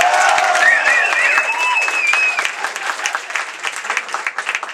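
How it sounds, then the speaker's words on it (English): Crowd at an Exodus DVD premiere screening applauds loudly and steadily, with scattered whoops and cheers rising over the clapping before it thins toward the end. "how about a round of applause for that fucking thing?"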